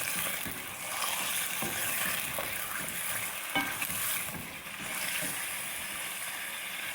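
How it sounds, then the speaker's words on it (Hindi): Chicken fries in oil in a karahi, with a continuous hissing sizzle broken by scraping, clattering stirring sounds throughout. "थोड़ा सा फ्राई कर लेंगे ऑयल में।"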